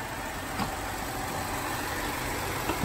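A 2018 Jeep Grand Cherokee Altitude with a V6 engine idles at a steady, even rumble, heard alone with no voices and a couple of faint ticks over the hum.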